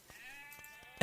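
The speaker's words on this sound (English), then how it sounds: "The sheep is going to body block the eagle scout." A sheep in Age of Empires II gives a single thin, wavering bleat lasting most of a second, fairly quiet and alone, ending in a sharp louder in-game click.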